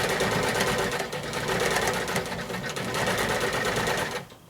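A sewing machine stitches down a fabric applique for textured quilting, whirring in a fast, steady, close run that stops just before the end.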